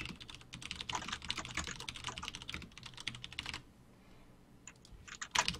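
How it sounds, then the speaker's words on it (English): Typing on a computer keyboard, a fast, steady run of close, crisp key clicks that pause briefly and then resume in short bursts. "I'm typing it up right now"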